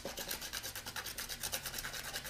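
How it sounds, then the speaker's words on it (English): Sanding over watercolor paint on paper, a fast rhythmic scratchy rubbing with short repeated strokes, close and quiet with no talking. "just a little color sanding on there, and the color sanding going down the stem"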